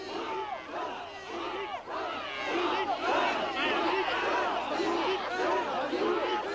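A dense festival crowd fills the streets in Japan, with many voices calling and chattering at once in a steady, lively roar.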